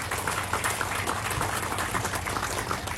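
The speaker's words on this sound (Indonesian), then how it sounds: "Boleh tepuk tangan untuk mereka semua." Crowd applause for three officials at a housing inauguration ceremony: dense, steady clapping fills the whole stretch at an even level, with no voices over it.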